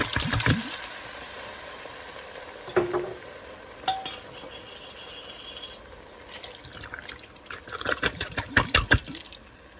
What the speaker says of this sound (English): I'm gonna add 2 cans of tomatoes.